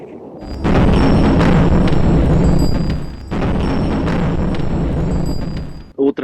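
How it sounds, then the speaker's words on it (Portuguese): Explosion with bursts of gunfire in wartime Ukraine, heard from a car stuck in traffic: a long, heavy roaring rumble that swells, dips briefly and returns, loud and dense, then cuts off near the end. "Outra explosão agora com rajada de tiros também."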